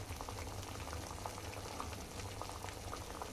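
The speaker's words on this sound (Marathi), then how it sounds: "हे असं उकळू द्यायचंय, एक 4-5 मिनिट उकळू द्यायचंय" Water with nirgundi and drumstick leaves bubbling on a stove as a herbal decoction, a steady close simmering burble with a low rumble and no voices.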